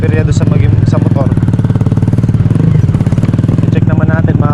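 A motorcycle engine runs close up with a steady, fast putter, loud and continuous throughout, while someone talks over it.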